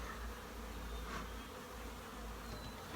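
Honeybees buzz around an open queen castle hive in a continuous, even, low hum. It is faint and steady throughout, with no voices.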